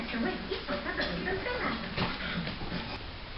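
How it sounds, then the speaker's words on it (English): A dog whimpers and gives small yips in short, irregular bursts through a steady background, with people talking over it throughout. "I can't find my dog."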